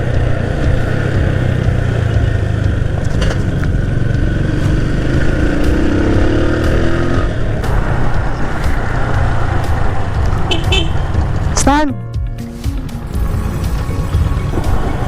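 A motorcycle runs and passes on a road at a checkpoint, its engine a rough, steady drone that swells and then fades with a sharp pitch sweep as it goes by, with wind noise throughout.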